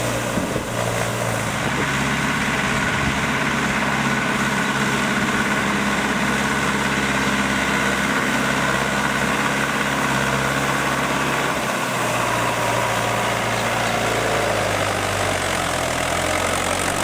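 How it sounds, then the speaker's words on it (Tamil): A tractor engine runs steadily in a paddy field where a farmer drives it over his crops, a loud continuous low rumble with slight vibration and no speech. "மனமுடைந்த விவசாயி வேணு காளிதாஸ் டிராக்டரை விட்டு வயலில் பயிர்களை அழித்துள்ளார்"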